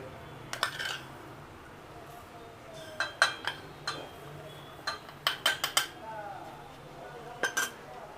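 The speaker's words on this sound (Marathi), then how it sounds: "यानंतर इथे मोहरी आहे जी रोजच्या फोडणीला आपल्याला लागते ती एका कप्प्यात भरून घ्यायची" Mustard seeds are poured into a steel spice box compartment, giving scattered light metallic clinks and tinkling bursts in small clusters, close but quiet.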